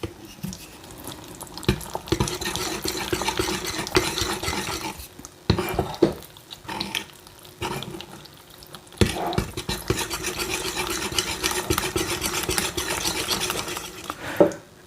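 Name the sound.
stirring sourdough batter with a Danish dough whisk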